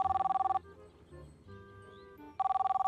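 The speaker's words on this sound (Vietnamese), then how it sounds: "sao cứ chuông điện thoại. Nghe đi anh." A telephone in the cooking game Kebab Chefs rings in a rapid trilling burst, falls silent for nearly two seconds while faint tones play, then trills again; the ringing is fairly quiet.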